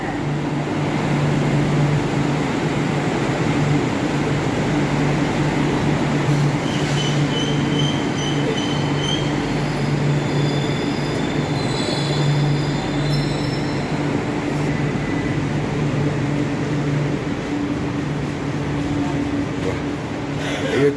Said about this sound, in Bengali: এই হচ্ছে নতুন মেট্রোর রেক।